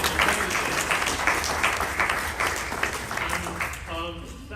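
Crowd clapping at a San Diego Comic-Con panel, a thick burst of applause that thins near the end as a voice begins speaking over it.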